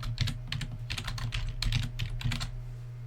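Rapid bursts of keystrokes on a computer keyboard as a path is entered into a scripting settings page, close and clear, in uneven clusters with short pauses and no talking.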